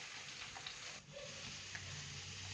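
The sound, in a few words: stirring finely chopped cabbage in a pan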